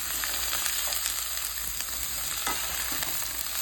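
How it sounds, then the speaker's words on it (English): Vegetables for a vegetarian bean chili sauté in a pan with a steady, dense sizzle, close and constant, and light stirring taps throughout, with no talking. "I'm gonna saute all of that here"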